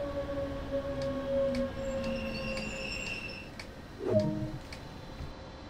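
A passenger train in Train Sim World 2 slows to a stop on the Rhein-Ruhr main line between Bochum and Duisburg. Steady tonal brake squeal and whine fades, with a short clunk near the end and faint rail noise, no talk.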